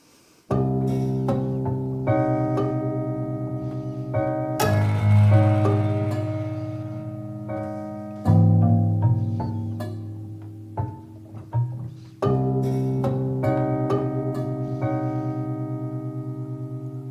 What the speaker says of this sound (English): If I now have a prepared piano,